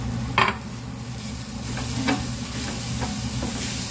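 Fenugreek leaves and potato mixture fry in a pan, a steady low sizzle under a cooktop hum, punctuated by a few soft scraping stirs of the spoon against the pan.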